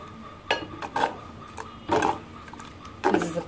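Spoon stirring tomato rasam in a metal pot, a few irregular clinks and scrapes against the pot with short quiet gaps, close and fairly soft.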